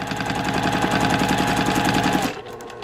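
A sewing machine runs fast and evenly during free motion quilting, its rapid rhythmic needle chatter close and fairly loud for over two seconds before it slows and stops.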